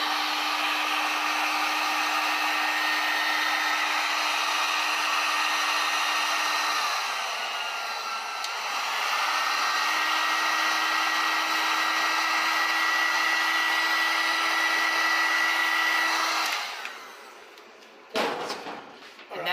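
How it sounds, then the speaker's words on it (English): Loud, steady whooshing roar of a heat gun blowing on a transfer print, running continuously with a brief dip in the middle, then cutting off, followed by a few sharp knocks and clatters. "We're just going to use a heat gun for today"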